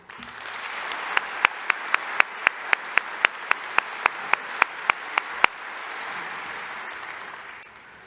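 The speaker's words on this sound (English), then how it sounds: "You may now applaud." A university fall commencement audience applauding, a broad sustained wash of clapping from a large crowd punctuated by a steady series of sharp, loud nearby claps, fading down toward the end.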